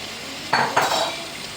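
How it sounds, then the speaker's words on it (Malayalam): A spoon stirs a pot of chicken curry, with two short scraping, sloshing strokes against the cookware, close and without speech. "ഇനി ഒന്ന് നന്നായിട്ട് നമുക്ക് ഇളക്കി കൊടുക്കാം"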